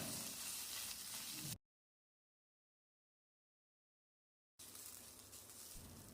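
Cashews and green chillies fry in a little oil in a pan with a steady, close sizzling hiss that cuts out abruptly into about three seconds of silence, then resumes just as loud.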